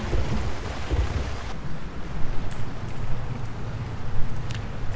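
Heavy storm rain in the Project Zomboid video game, a steady dense roar of downpour and wind with low rumbling, continuous and loud throughout with no voices.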